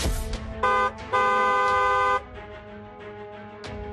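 A car horn honks in several bursts: a short toot, a brief blast, then one longer sustained honk, followed by quieter tonal traffic sound and another short toot near the end.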